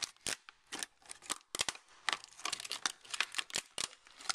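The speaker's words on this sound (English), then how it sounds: "you can just break all those little itty-bitty plastic tack welds" Small plastic tack welds snapped one after another along the sides of yo-yo blister packaging, a fast irregular series of close, sharp crackling snaps and crinkles.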